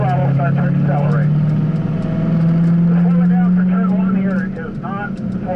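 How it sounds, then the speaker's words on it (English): A car on a driving school track accelerates out of a corner, its engine droning loud and steady and climbing in pitch, close up from inside the cabin, with an instructor talking over it. "as you straighten the wheel, roll into the throttle, start to accelerate"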